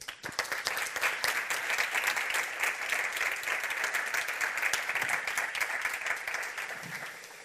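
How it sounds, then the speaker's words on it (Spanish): Strong audience applause welcomes a speaker at a talk, many hands clapping loudly and steadily for several seconds before trailing off near the end, with no voices over it. "La recibimos con un fuerte aplauso"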